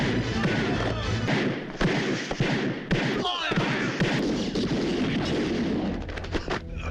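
Gunfire in a bodyguard action movie shootout: dense, continuous bursts of shots and heavy thuds over a loud bed of music and effects, with voices mixed in.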